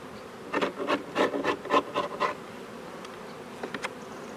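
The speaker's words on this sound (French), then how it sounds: "Donc je vais regratter un peu les bords de la ruche là-bas" Wax gets scraped off the wooden edges of a beehive with a tool, a quick run of about eight rasping strokes near at hand, then a pause and a few fainter scrapes, with no talk.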